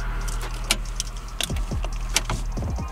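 A car key is pulled from the ignition of a parked car and the steering wheel locks, heard as close metallic key jangles and a few sharp clicks and mechanical clunks.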